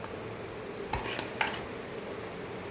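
Serving shukto, a Bengali mixed vegetable curry, from a large cooking pot: a few metallic scrapes and clinks of a spoon against the pot over a steady background hiss.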